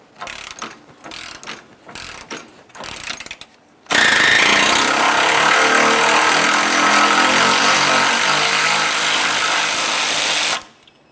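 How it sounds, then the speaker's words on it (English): A 12 millimeter power tool backs out a horn mounting bolt on a 2004-2006 Scion xB: a few short clattering bursts, then one loud, sustained rattling whir for about seven seconds, close by. "We'll use our 12 millimeter to remove this mounting bolt."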